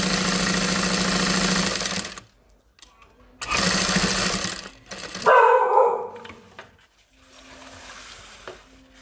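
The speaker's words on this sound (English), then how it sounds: "I'm gonna sew straight up the sides here" A sewing machine stitches up the sides of a tote bag in two loud, steady whirring runs separated by pauses, followed by softer handling noises.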